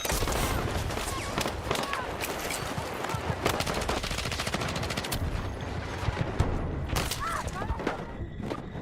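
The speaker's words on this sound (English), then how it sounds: "I don't know where is the shot coming from." Gunfire in the Battlefield 6 video game: rapid bursts of automatic fire and single shots crackling continuously, loud and dense, with a voice talking over the shooting.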